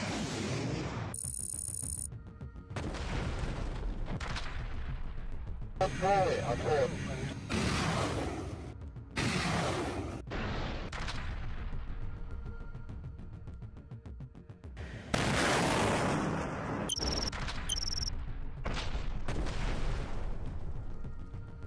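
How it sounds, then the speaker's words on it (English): Thermobaric munitions bursting on enemy firing positions near Pokrovsk, a string of separate distant booms and blasts in irregular bursts, some louder and sharper than others, with faint talk between them. "Footage of enemy firing positions being suppressed using thermobaric munitions in the Army's attack zone in the direction of Pokrovsk"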